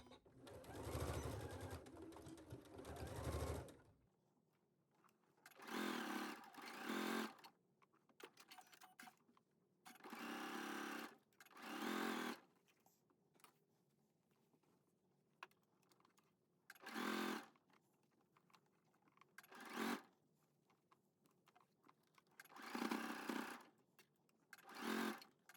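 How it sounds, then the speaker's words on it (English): Sewing machine stitching garment fabric, a longer motor run at first and then several short bursts of rapid needle chatter separated by pauses, fairly quiet and close, with faint handling sounds between runs. "lowering my needle and beginning to sew again"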